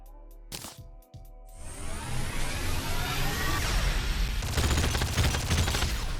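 The Magna Cannon weapon firing in the video game Terraria, a brief click and thump followed by a rising, continuous rushing blast that grows louder and denser, with no talk over it.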